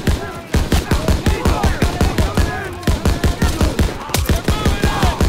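Automatic machine gun fire in the World War II shooter game Call of Duty WW2, a rapid, steady stream of loud shots in a fast rhythm throughout, with battle noise behind and shouted voices mixed in.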